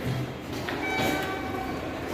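A Sapporo subway train runs through a station with a steady loud rumble and whine, faint tonal squeals, and a brief chime, all close and continuous without speech.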